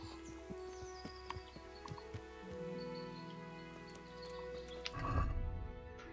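A horse in the medieval game Kingdom Come: Deliverance whinnies over scattered hoof clops, with a louder thump and neigh near the end amid quiet game ambience.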